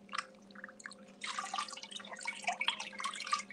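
Water runs and splashes steadily while hair is rinsed, a soft patter that grows louder and denser partway through, with a low steady hum underneath.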